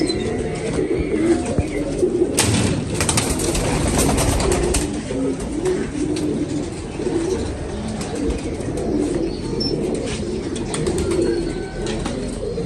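Pigeons coo steadily and in overlapping layers throughout, with occasional wing flutters in a busy loft where young birds are kept; the sound is close, dense and continuous, with no talking.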